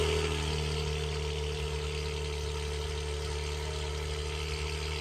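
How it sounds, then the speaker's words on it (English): An Acura TLX Type S with a 355-horsepower turbocharged V6 runs at a steady idle, a low, even engine drone with constant mechanical hum and no revving. "355 horsepower because of a turbocharged V6, and it sounds animalistic"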